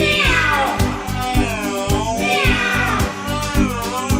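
Electric guitar with bending, sliding notes that mimic a cat's meow, played over a steady driving rock beat with pulsing drums.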